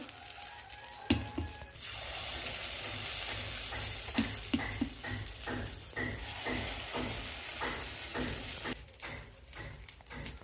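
Appe batter drops into a hot oiled appe pan with a steady sizzle and frying crackle that runs throughout, broken by a series of soft clicks and taps from a spoon against the pan, with no voices.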